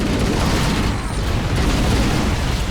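Explosions in a shooter video game make a dense, loud wall of rumbling booms and crackle that rolls on without a break.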